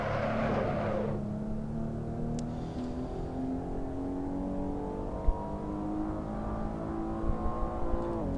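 A Maserati Levante S in the Assetto Corsa video game, its engine droning steadily with slowly rising pitch as it drives on, moderately loud with a few faint knocks late on.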